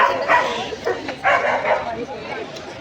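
Several dogs of many breeds at Cubbon Park on a busy weekend give short yips and woofs in quick bursts, close by, mixed with people talking.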